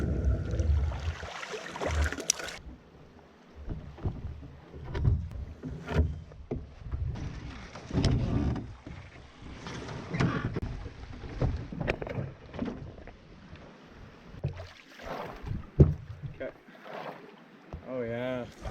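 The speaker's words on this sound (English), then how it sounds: "so we're gonna paddle this part," Canoe paddled and pulled along a wilderness river on a multi-day trip, with splashing, knocking and water sounds close by while people talk throughout.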